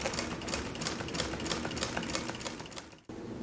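A Consew 206RB-5 industrial sewing machine stitches leather piping, giving a fast, steady mechanical clatter up close that stops abruptly near the end.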